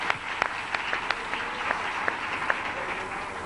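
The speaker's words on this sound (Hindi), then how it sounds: "ताली बजा सकता है?" An audience clapping at a Hindi religious talk: a steady wash of applause with scattered sharper individual claps standing out, moderately loud throughout.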